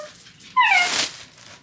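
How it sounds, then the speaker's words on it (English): A young puppy lets out a single high, wavering whimper that swells into a short whine and then fades, close by and fairly loud, with quiet room sound before and after. "But Paco is still a puppy."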